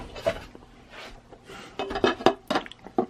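A lid goes onto a Crockpot slow cooker holding pot roast, with a few close, hard clinks and scrapes of ceramic and glass that grow louder toward the end, with no talk.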